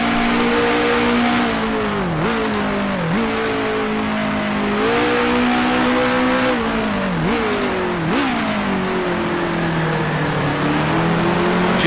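A 1960s Formula One car's engine in the Grand Prix Legends sim, 1966 Syracuse Grand Prix, screaming loud and close through repeated upshifts, its pitch climbing then dropping sharply at each gear change, with no voices.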